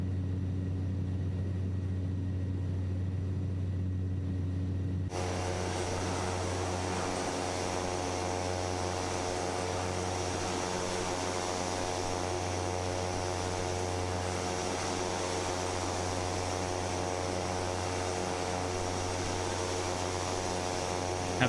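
A Cessna Caravan turboprop in a flight simulator drones steadily, its engine tone jumping to a louder, brighter whine a few seconds in and then holding constant with a low hum underneath.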